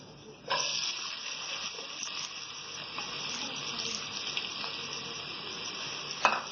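Onions frying in hot oil with cumin and garam masala, a close bright sizzle that starts abruptly as they go in and continues steadily, with occasional stirring knocks.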